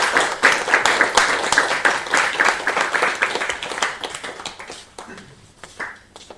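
An audience at a game developers' meetup claps for a developer stepping up to present, a lively round of applause with sharp individual claps that gradually thins out and fades.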